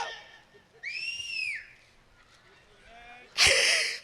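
A human voice mimics a whistle at a fair: a short shrill whistled tone that bends up and down, then a sharper, louder burst at the end, close against a quiet background.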